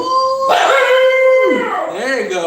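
Stevie the dog lets out a loud, close howl that holds steady and then wavers and bends in pitch, continuing for the whole stretch.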